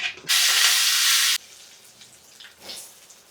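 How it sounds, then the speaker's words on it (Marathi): Tadka tempering with urad dal hits hot oil and bursts into a loud, steady sizzle for about a second, then stops abruptly, leaving faint kitchen noise. "आता चला आपण बॅटरला पण तडका देऊ"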